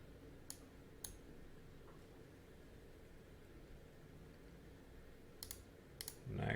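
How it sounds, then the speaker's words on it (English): Several sharp clicks from a computer mouse, a pair near the start and a quick cluster near the end, heard close up over a steady low hiss with no voices. "I'm gonna just click next, I'm gonna approve it"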